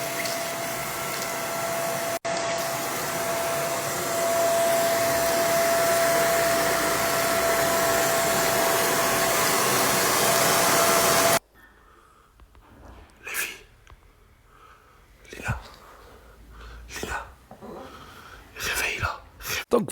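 A vacuum cleaner roars steadily and loudly for about eleven seconds as it sucks up bird droppings, then cuts off abruptly. Quiet, breathy voices and scattered noises follow.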